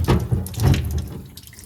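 Running tap water splashes over a 3D-printed part being rinsed by hand, giving uneven bursts of gurgling and spattering that fade toward the end.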